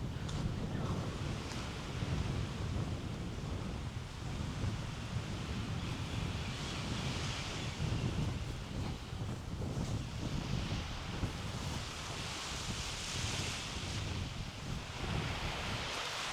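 Ocean waves wash onto a Koh Samui resort beach in a continuous, broad roar, mixed with wind buffeting the microphone and no talk.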